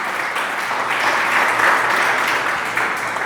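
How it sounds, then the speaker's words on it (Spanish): A church audience claps together during a sermon, a steady, fairly loud wash of applause from many people that holds evenly through the moment. "Dale un aplauso a Jesús"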